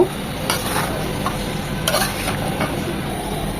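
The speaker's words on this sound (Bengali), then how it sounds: "সব কিছু খুব ভালোভাবে মিশিয়ে নেব" Spiced liver sizzles in a pan while a spoon stirs it, giving a short stretch of steady frying hiss with a few soft scrapes against the pan, heard up close and with no voices.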